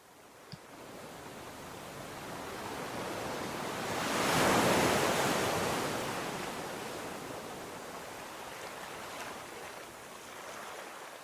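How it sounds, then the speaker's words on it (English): Soft ocean waves roll onto a shore as a faint, steady wash of surf that swells to a gentle peak midway and then recedes. No voices are present. "hear the sounds of waves gently rolling onto the shore"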